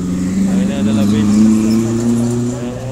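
A bus engine drones loud and close on APT Pranoto street in Samarinda, a steady low hum with a rising tone as it passes, and a voice talks over it.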